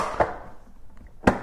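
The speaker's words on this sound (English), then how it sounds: "Okay, then we can snap this back." A plastic air box part on a Husqvarna 701 motorcycle clicks back into place with two sharp, close snaps about a second apart, with near silence between them.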